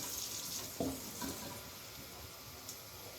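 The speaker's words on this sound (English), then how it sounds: "we're just going to fill this up with water, almost to the brim" Tap water runs into a pot holding pork shoulder, a faint, steady stream with a few soft clunks early on and no talking.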